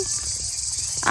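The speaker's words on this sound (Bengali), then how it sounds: "বাগানের মধ্যে হচ্ছে ঝিঝি পোকার" Crickets in a garden near a riverbank keep up a steady, high, continuous trill, fairly close and unbroken across the short stretch, with no talking.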